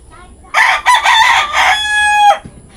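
Close and loud, a rooster in a rural Batangas farmyard lets out one full crow, a choppy start stretching into a long held note before cutting off, with quiet background otherwise.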